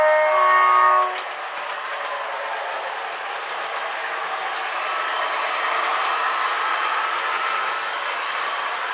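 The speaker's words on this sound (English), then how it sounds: "the locos travel across those points, the double slip and the curve point where I've moved them" Model railway locomotives rolling over track points, including a double slip and a curve point, with a steady close rumble and faint clicking; a brief tonal squeal or horn-like tone opens before the running noise settles.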